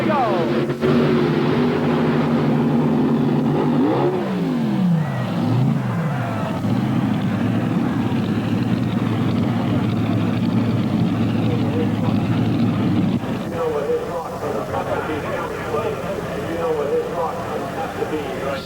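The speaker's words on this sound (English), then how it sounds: "the tractor was running super" A heavy modified pulling tractor at a 1991 USHRA tractor pull in Bowling Green roars loudly through its run, engine pitch sweeping and holding at a sustained howl before easing off, while an announcer talks over it.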